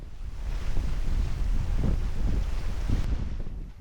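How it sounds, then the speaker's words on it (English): Steady wind rush and breaking waves on a racing sailboat rounding Angel Island in San Francisco Bay during the Three Bridge Fiasco, loud and continuous throughout with gusts buffeting the microphone. "As they round Angel Island, the wind is building."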